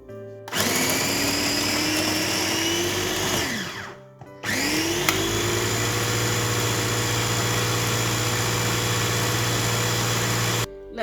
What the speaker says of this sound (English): Now we're gonna grind our ingredients.